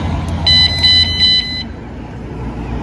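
A VanGuardian van alarm arming from its remote control, a short series of high electronic beeps in quick bursts over a steady background hum, fairly loud, with no voice.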